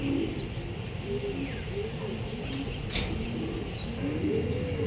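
Racing pigeons come in to land during a club training session in Luisiana, Laguna, giving soft repeated coos over a constant outdoor background, with no talking.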